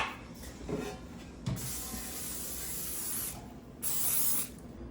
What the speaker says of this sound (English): we are going to start by spraying our loaf pan with coconut oil